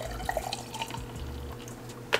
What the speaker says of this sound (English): So I'm gonna put the milk in there.